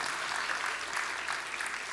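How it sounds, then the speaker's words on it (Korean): Steady, dense applause fills a church Sunday service as a child receives a Bible recitation award, a continuous wash of clapping from the congregation throughout. "큰 박수 부탁드리겠습니다"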